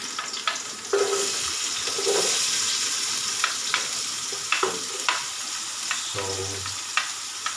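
Onion fries in a hot pan with a bright, steady sizzle, punctuated by repeated scraping stirs and a few clunks, heard up close while someone says a single short word.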